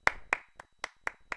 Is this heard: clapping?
yes